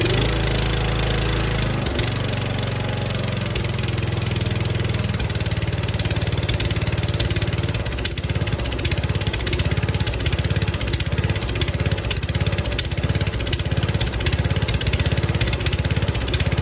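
An old Snapper lawn mower engine left sitting for six years runs loud and steady at full throttle, its rough, knocking putter close and continuous, dipping briefly early on before settling into a fast, even rhythm.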